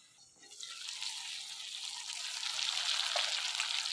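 Fish hitting hot oil set off a loud, bright sizzle that swells from near silence within half a second. It then holds as a dense, steady hiss that grows slightly louder toward the end.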